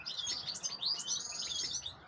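Goldfinch and its chicks in a cage, a busy stream of high, rapid chirps and twitters, continuous and fairly close with no other sounds.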